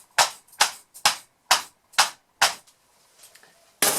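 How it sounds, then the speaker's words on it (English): A soap mold of hot-process sulfur soap with bentonite clay and activated charcoal banged down on a hard surface, six sharp evenly spaced knocks followed by a pause and one more loud knock, close and alone. "Let me bang this down again,"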